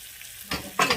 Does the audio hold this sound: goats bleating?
no